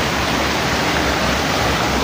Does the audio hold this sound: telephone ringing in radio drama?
no